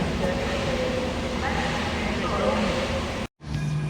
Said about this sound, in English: Starting now is I believe a 221 Super Voyager.